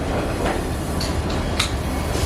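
A train at a Chicago transit station platform gives a steady, loud rumble with a few brief metallic clanks over the continuous noise.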